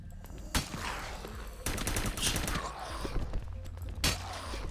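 Gunfire in the video game The Last Stand: Union City comes as loud sharp shots and rapid bursts, one crack early, a dense volley in the middle and another sharp shot near the end, over a busy game background.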